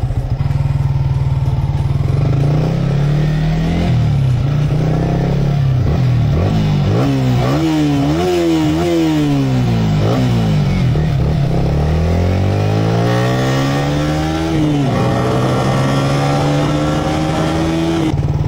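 A Yamaha YZR motorcycle engine idles, then revs repeatedly with rising and falling pitch, loud and close throughout, ending in sustained higher revs.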